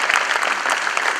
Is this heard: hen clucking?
no